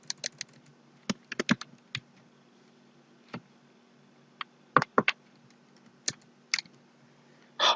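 Scattered keystrokes tap on a computer keyboard, close and crisp, in irregular bursts and single clicks with quiet gaps between them and a faint steady hum underneath.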